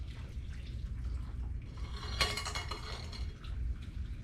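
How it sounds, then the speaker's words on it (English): Homemade broth poured through a strainer in a home kitchen, a close splash and trickle of liquid with light clinks of metal and dishes, swelling midway then easing off. "We're just gonna run this through a strainer."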